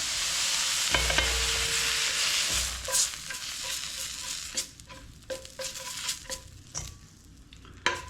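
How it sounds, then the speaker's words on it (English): Cooked vegetables and meat tipped from a hot pan into another pot with the fire off, a broad sizzle fading into scattered clinks, scrapes and soft stirring knocks. "Dump this into a pot."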